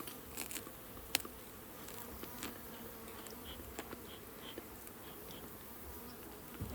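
Honeybees from long mini nucs hum steadily in a bee yard at midday while the colonies are split, a faint, even drone broken by occasional light taps and clicks.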